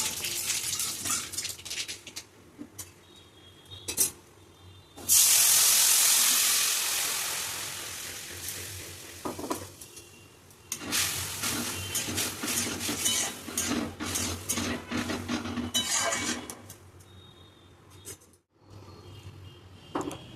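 Chalta fruit tipped into hot mustard oil tempered with a dry red chilli and black mustard seeds: a burst of loud sizzling, then ongoing frying hiss broken by scraping and clinking as the pan is stirred.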